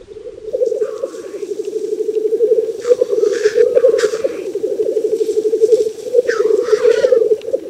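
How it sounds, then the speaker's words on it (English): Black grouse at a lek giving the mumbling song, a loud, continuous bubbling coo rolling on for several seconds, with brief hissing and chuffing bursts breaking over it. "This is a waiting song grouse, or accepted as it is, called mumbling."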